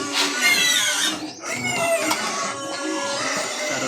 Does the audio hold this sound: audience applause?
no